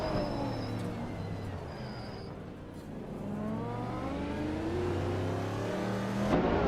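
A Ferrari 512 race car in a racing video game, engine droning steadily with rising and falling pitch through gear changes, moderately loud and close, alone without talk.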